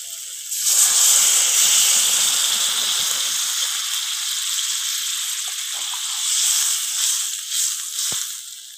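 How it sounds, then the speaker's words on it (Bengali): Water poured into a hot pan of prawn and pointed gourd curry cooking over a wood fire gives a loud, steady hissing sizzle that fades slowly while the sputtering settles. "এবারের মধ্যে আমি দিয়ে দেবো জল।"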